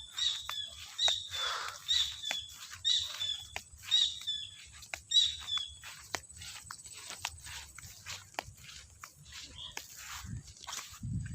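Repeated high bird calls, about six evenly spaced chirps in the first half, then scattered softer chirps over a low rustling background, in an oil palm plantation.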